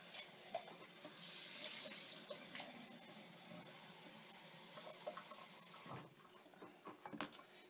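Tap water running to fill a container for cleaning a blender while making cocoa butter milk soap, a faint, steady splashing stream with a few small knocks and clinks near the end.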